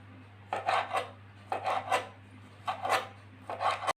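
A knife slicing through squid on a cutting board, for a coconut squid dish, in four separate bursts of rasping, scraping cuts spaced about a second apart, close and fairly quiet with no talking.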